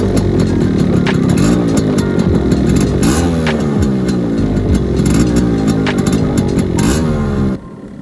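Yamaha RX 135 two-stroke motorcycle with its stock silencer, revving loud and close with a rasping, crackling exhaust note and repeated rising and falling throttle blips, cutting off sharply near the end.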